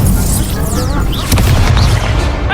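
Incendio, a fire spell in Hogwarts Legacy, goes off with a deep, booming burst and swirling whooshes, filling a short, dense stretch with faint voices in the background.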